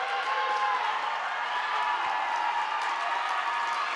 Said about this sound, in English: As the crowd stands up and claps because she fouls out the game.